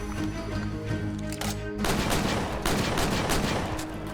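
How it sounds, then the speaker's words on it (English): Gunfire in the zombie video game State of Decay, dense overlapping shots against a constant droning game background, growing heavier and more rapid partway through, with no voices. "Let's shoot him until he dies."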